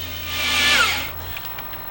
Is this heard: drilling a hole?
yes